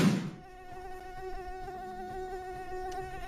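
A mosquito's thin, steady whine hangs close and continuous for about three seconds, its pitch holding with a slight waver, after a short muffled bump at the start; no voices.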